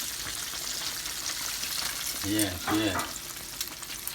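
Chicken frying in hot oil until crispy and brown, a steady dense sizzle throughout, close and loud, with a brief spoken word partway through.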